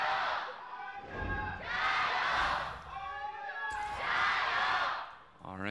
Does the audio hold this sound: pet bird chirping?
no